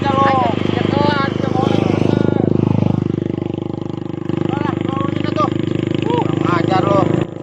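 A motorcycle ridden out by the rice paddies gives a steady, rough engine drone throughout, partly buried under loud, continuous talking between riders.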